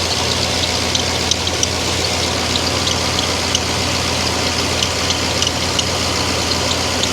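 Freshly rebuilt LS1/LS4 V8 running loud and steady on its first start, a dense continuous engine roar with faint repetitive ticking knock throughout.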